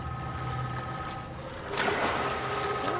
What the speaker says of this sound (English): Ah, good water effect.